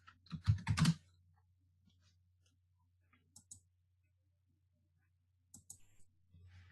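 A computer keyboard is typed on in a quick burst of close, crisp clicks at the start, followed by a few isolated key taps over a quiet background hum.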